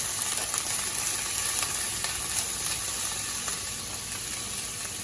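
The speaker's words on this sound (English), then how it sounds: "So in the meantime, these veggies are going to be cooking." A steady, crackling sizzle of fajita vegetables frying in olive oil in a pan, soft and continuous with no talking.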